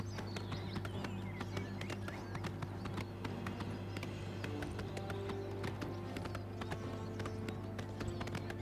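Horse hooves clip-clop steadily in a video game, a continuous run of quick, evenly spaced taps over a low droning background hum, fairly faint and with no talking.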